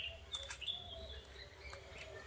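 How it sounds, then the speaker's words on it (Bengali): Birds calling in a forest, with several faint high chirps and whistles scattered over a quiet background, heard from a distance. "হ্যাঁ, কত পাখি ডাকছে দেখছিস?"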